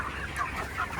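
Chickens on a village poultry farm cluck continuously in a close, busy flock chorus of overlapping calls, with no voices over them.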